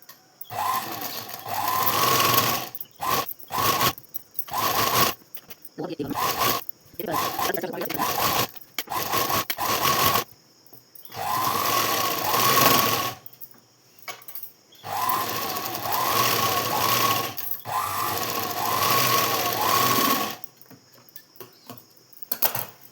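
A sewing machine stitches a blouse neck piece in a home tailoring lesson, running in several loud, rapid mechanical bursts of a few seconds each, separated by short pauses.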